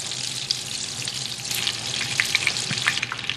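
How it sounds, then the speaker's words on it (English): Butter melts into hot oil in a pan, a dense continuous sizzle with scattered sharp pops and crackles that grow slightly busier toward the end, close and fairly loud with no voices. "Get that butter melted down into the oil."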